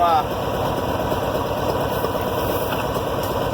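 Farmall 706 tractor engine idling nearby, a loud, steady rumbling chug with constant vibration that runs unbroken for a few seconds.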